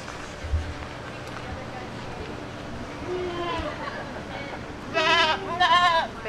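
Goats in a county fair livestock barn in America let out two loud wavering bleats near the end, following a stretch of murmuring crowd noise and indistinct voices.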